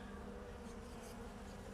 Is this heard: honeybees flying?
yes